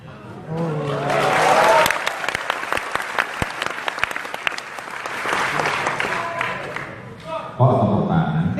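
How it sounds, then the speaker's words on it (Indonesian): An audience at a forum with the president bursts into applause after a point about corruption. Dense clapping swells and holds, then thins out as a voice comes in near the end. "Kok tepuk tangan?"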